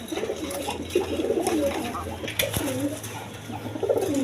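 Two female pigeons coo close by in a coop, with repeated throaty rolling calls and a brief sharp knock partway through.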